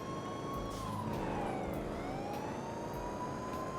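A police patrol car siren in a GTA roleplay game wails in a steady rising-and-falling tone, held continuously and fairly faint, with an engine rumble underneath and no talk.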